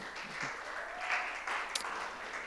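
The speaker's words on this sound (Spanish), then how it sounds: "Vamos a darle un aplauso al Señor" Congregation applause in a Spanish-language church service, a soft, fairly distant wash of many hands clapping, steady and low in level with slight swells, no voices clearly over it.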